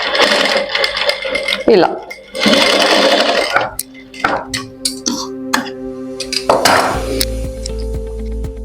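A sewing machine stitches piping onto fabric in short, loud whirring bursts separated by pauses, with clicks and handling noises in between, while someone talks over it.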